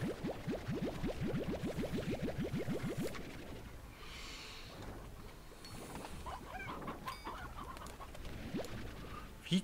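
A chicken clucks in the Slime Rancher video game, a rapid run of about a dozen sharp clucks early on, then quieter scattered cackles and small game noises, with no talk.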